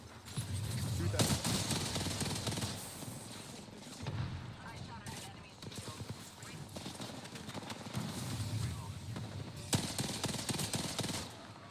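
Dense, sustained gunfire from the Apex Legends video game, rapid automatic bursts running almost continuously and loud throughout, with a few sharper shots standing out.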